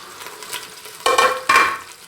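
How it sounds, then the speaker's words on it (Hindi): Masala fries gently in a pan, with a soft sizzle and two sharper bursts of stirring or scraping near the end of a short stretch. "ये देखिए मसाला हमारा फ्राई हो रहा है हल्का सा।"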